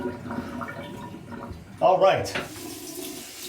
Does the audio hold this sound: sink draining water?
yes